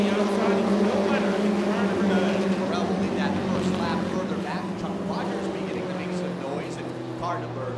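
Mini stock race cars circle the Waterford Speedbowl, a steady loud roar of engines rising and falling as cars pass, with a race announcer talking over the noise.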